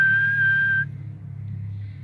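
A person whistles a single steady, sustained note outdoors on a hillside campsite, held for under a second and then cut off, leaving a quiet low rumble of background noise.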